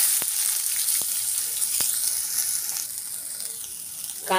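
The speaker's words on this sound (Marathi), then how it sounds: "कांदा, लसूण आणि मिरची तेलामध्ये परतून घेऊया" Onion frying in hot oil in a pan, a steady bright sizzle with a few clinks of a utensil, close and continuous, with no talking over it.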